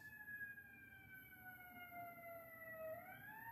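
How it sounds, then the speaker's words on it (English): A distant emergency vehicle siren, its wailing tone falling slowly then starting to rise again, faint and steady in the background with no talking. "We have sirens in the background as well."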